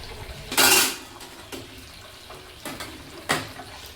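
Metal idli steamer plates holding thatte idli and plain idli clank and clatter in a few separate bursts, one loud knock followed by lighter, scattered clinks close by.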